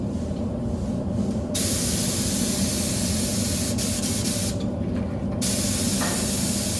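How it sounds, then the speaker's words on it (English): Steady, loud hiss of a spray gun misting ceramic glaze, continuous throughout with brief shifts in pressure and tone. "this is essentially how we do our spray glazing"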